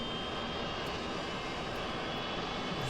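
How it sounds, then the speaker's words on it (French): An MD-11 jet engine spooling up during startup in Microsoft Flight Simulator, a steady, loud, continuous engine whine and roar that holds even throughout, with no talk. "Donc on démarre le réacteur. Donc, comme on peut entendre, il se démarre."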